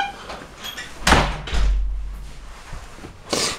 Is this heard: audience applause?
no